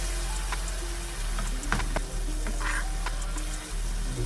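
Tofu frying in a pan after being flipped, a steady close sizzle with occasional sharp pops and spatula clicks, no talking.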